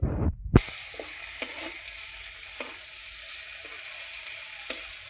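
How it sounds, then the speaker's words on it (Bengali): Bitter gourd frying in fish oil with chopped onion and chilli, a continuous soft sizzle following a sharp initial clatter, with occasional light taps of a spatula against the pan. "উচ্ছে দিয়ে মাছের তেলের ভাজা।"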